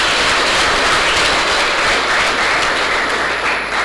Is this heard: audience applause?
yes